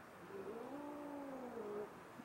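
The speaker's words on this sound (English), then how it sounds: "And the kitties are fighting" Two cats fight in the background, giving a long, rising and falling caterwauling growl that carries on for about two seconds, fairly faint and distant, with no talk.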